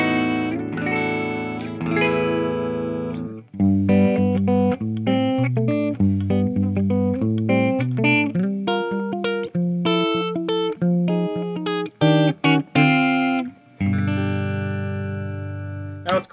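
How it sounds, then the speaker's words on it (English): Clean, chimey electric guitar from a 2019 Gibson ES-275 Thinline P90 on the middle pickup position, playing a steady run of single notes and short chords with brief gaps, ending on a sustained ringing chord, loud and alone. "But the middle still has that typical chiminess to it."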